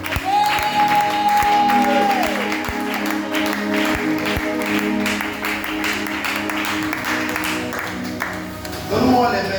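A church congregation applauding and acclaiming God during a sermon on overcoming witchcraft, sustained clapping and crowd noise filling the room while a preacher's voice carries over it, with sharp louder claps standing out.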